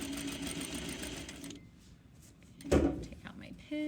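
A sewing machine back stitching through a messenger bag's pink fabric and lining seam runs steadily and fairly loud for about a second and a half, stops, and after a brief bump starts running again at the end.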